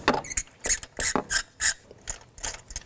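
A ratchet with a 5/8 socket loosens a spark plug on a 2016-2020 Kia Sorento 2.4L four-cylinder, giving close, crisp bursts of clicking in quick repeated strokes with short pauses between, with no talk.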